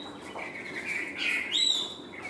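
A caged hwamei, the Chinese songbird, sings a brief run of clear, whistled notes that rise and slide upward, close and moderately loud against a quiet background.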